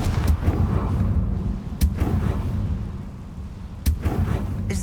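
A Confringo blasting spell goes off in Hogwarts Legacy, with a few sharp, loud booming bursts rising above a dense, rumbling game soundscape.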